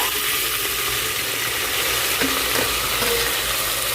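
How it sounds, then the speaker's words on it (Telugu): Mint, curry leaves, onion, green chilli and tomato fry in a hot pan, a steady dense sizzle with faint stirring clicks, close and continuous with no talk. "కరివేపాకు ఉల్లిపాయ ఉల్లిపాయ పచ్చిమిరపకాయ టమాటా అండి వేసేసుకుంటున్నాము"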